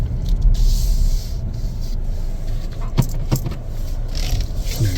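A 2024 Chevrolet Equinox AWD LS reverses slowly during a test drive, with a steady low engine and road rumble filling the cabin and a few light clicks and rattles.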